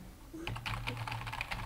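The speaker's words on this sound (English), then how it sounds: "wow, you type really fast" Fast typing on a computer keyboard during a Minecraft session, a dense rapid clatter of keystrokes close to the microphone with no voices.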